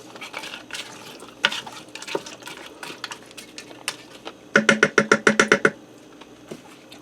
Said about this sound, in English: Alright, I'm going to add my bacon back in before I eat it all. Give that a stir to mix that in.